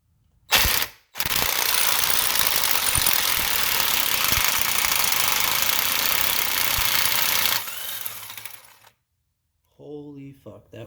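A power tool drives a fastener home during an Audi S6 turbo and manifold swap, giving a loud, sustained ratcheting whir for about seven seconds that then tapers off, followed by a brief voice.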